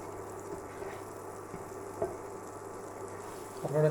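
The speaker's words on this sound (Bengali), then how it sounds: "এখন ইন্ডাকশানটা আস্তে আস্তে প্যানটাকে গরম করছে এবং বাটারটা গলে যাচ্ছে।" Butter melts in a frying pan heating slowly on an induction cooktop, giving a soft, steady low sizzle with a faint click partway and a louder burst of stirring or clatter at the end.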